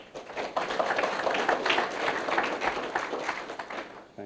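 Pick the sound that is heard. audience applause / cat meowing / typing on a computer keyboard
audience applause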